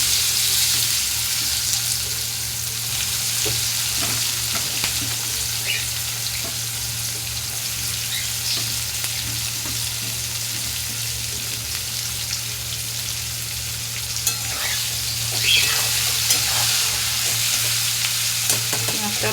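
Steady, loud sizzle of fish frying in hot oil, crackling continuously throughout with occasional sharper pops and a faint low hum beneath.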